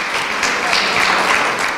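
Audience applause for the sponsors at a Bronx poetry show, a steady broadband wash of many hands clapping at an even, sustained level throughout the short stretch.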